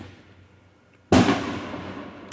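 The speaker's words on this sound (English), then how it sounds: "they're gonna like shoot another firework anytime soon" A firework bursts suddenly after near silence, a sharp loud crack followed by a crackling, fading tail.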